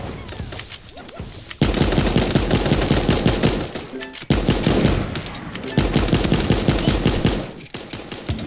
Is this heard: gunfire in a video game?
yes